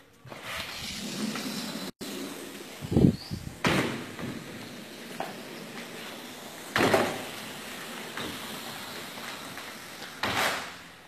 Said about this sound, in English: I'm gonna slide these doors open for you.